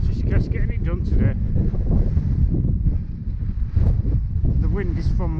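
Steady wind roar buffets the microphone throughout a winter road-bike ride, a continuous loud low rumble with a person speaking over it.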